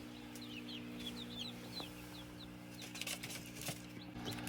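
Chickens and newly hatched chicks from a home hatch, with repeated high chick peeps and cheeps over steady low clucking from a bigger chicken and a constant hum in the background, no talking.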